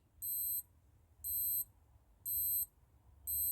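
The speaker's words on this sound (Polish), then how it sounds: "A dzwoni nam ten zegarek właśnie w taki oto sposób." Timer alarm on a Casio G-Shock GW9110K watch, four evenly spaced bursts of shrill, rapid electronic beeping, each about a third of a second long with short gaps between, close and clear over faint background hiss.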